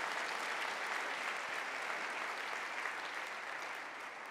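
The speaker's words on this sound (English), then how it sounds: "everybody has to clap" Steady audience applause, a dense even wash of many hands clapping that holds for several seconds before easing slightly at the end.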